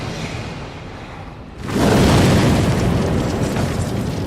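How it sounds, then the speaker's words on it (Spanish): A torpedo strikes a ship, an aircraft carrier in a wartime convoy, and a sudden loud explosion erupts into a sustained roaring rumble after a quieter lead-in. "Unos segundos después hubo otra tremenda explosión cuando nos alcanzó el segundo torpedo."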